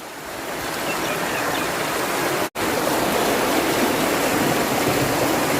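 Floodwater gushing from a rain drain broken open by heavy rain, a loud, steady broadband rush close by with one brief dropout midway.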